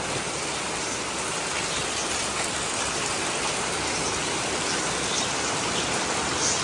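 Steady rain falls in a continuous, even hiss that stays at the same loudness throughout, with no voices.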